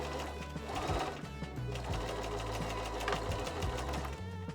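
Sewing machine stitching through quilt layers to tack them together for a campervan cushion, a steady loud mechanical whirr with rhythmic needle chatter running continuously, no voices.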